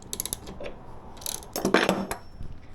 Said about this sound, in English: Final step, I'm just going to make sure the other bolt is all the way tightened down.